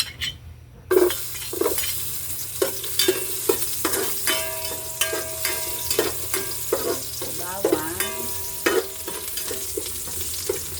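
Garlic sizzles in hot cooking oil for pancit bato from Bikol, a steady frying hiss broken by repeated clinks and scrapes of a utensil stirring in the pan, close and fairly loud.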